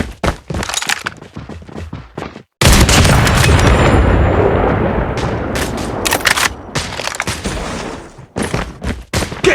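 Loud gunfire in a Call of Duty Mobile clan match limited to sniper rifles: sharp close shots and bursts, then a long dense stretch of continuous firing and impacts, no talk.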